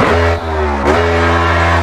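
Loud, close engine of a Mullet drag car in the video game Assetto Corsa, a deep droning rumble that dips briefly and then revs again.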